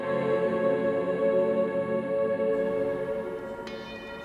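Three bronze church bells outside the nave of the Parish Church of the Assumption in Liechtenstein, a sustained resonant ringing hum that slowly fades, with a faint clink near the end.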